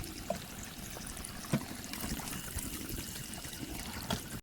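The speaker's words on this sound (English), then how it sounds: "Even a sink." Water trickling and running steadily from a tap, with a few small splashes and clinks, moderately quiet and close.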